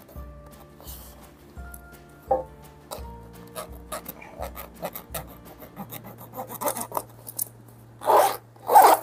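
A pencil rubbed back and forth along the teeth of a sticking Brompton bag zipper gives a series of short raspy scraping strokes, close and fairly quiet over a low steady hum, turning louder and harsher near the end.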